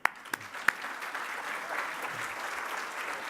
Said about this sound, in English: we'll give applause to Lucy